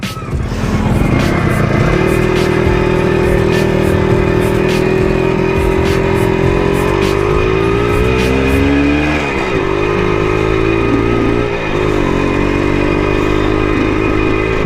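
A Yamaha RXZ two-stroke motorcycle revs and rides at close range, its engine loud and continuous throughout, rising and falling in pitch as the throttle is worked, with brief dips near the middle and end.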